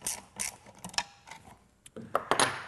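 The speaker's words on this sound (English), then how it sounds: "using a 3/16 Allen wrench as well as a 1/2-inch end wrench, go ahead and snug these down" Quiet metallic clicks and ratcheting from a 3/16 Allen wrench and a 1/2-inch end wrench snugging the seat bolts of a MasterCraft XD seat in a Ford truck, irregular close taps with pauses.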